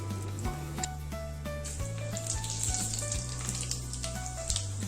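Dry red chillies, bay leaf and panch phoron frying in white oil in a kadai for a vegetarian mixed-vegetable dish, a steady close sizzle with a low hum underneath, no talking.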